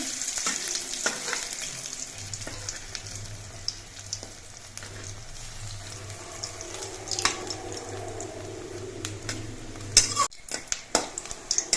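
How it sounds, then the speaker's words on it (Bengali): Red lentil and egg fritters frying in oil over low flame, a soft steady sizzle broken by scraping clicks as they are flipped, with a low hum and a louder clatter near the end. "বড়াগুলোর এক পিঠ একটু লাল হয়ে ভাজা হয়ে যাওয়ার পর আমি উল্টে দিচ্ছি"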